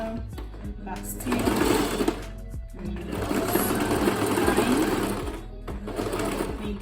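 Domestic sewing machine running a back stitch, a close, fast mechanical whirring chatter in several stretches with brief slowdowns, voices faintly under it.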